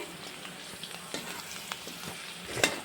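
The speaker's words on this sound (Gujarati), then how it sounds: "એને ક્રિસ્પી કરવાના છે મરચાંને" Green chillies frying crisp in hot oil for a shop-style puffed rice chevda, with a constant close sizzle, light stirring clatter and a sharper clink near the end, no voices.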